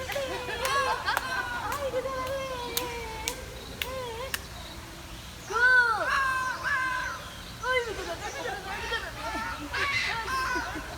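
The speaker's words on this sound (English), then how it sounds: "Then we're gonna go check out the talking parrot." A talking parrot vocalizes with warbling, whistled calls and chattering phrases, moderately close and recurring throughout, with a louder burst midway; people talk nearby.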